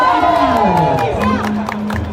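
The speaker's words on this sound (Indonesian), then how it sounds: "Tepukan meriah akan menyemangati para pelompat kita" Crowd cheering and clapping for jumpers at a Nias island cultural festival in North Sumatra, with excited shouts and whoops rising over a busy, lively background.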